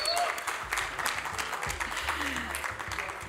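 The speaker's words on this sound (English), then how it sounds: "A round of applause, ladies and gentlemen." An audience claps at a large formal convention in Berlin. The applause is moderately loud and steady over about three seconds, with a low droning background and some speech mixed in.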